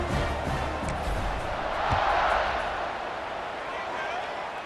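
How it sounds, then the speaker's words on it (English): A stadium crowd in a college football video game keeps up a steady, moderately loud roar, heard under a commentator's ongoing talk. "this crowd is feeling themselves after that last drive"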